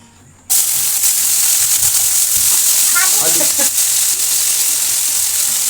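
Potatoes frying in hot mustard oil in a pan, a loud steady sizzle that bursts in abruptly and holds at full strength, with brief stirring scrapes partway through.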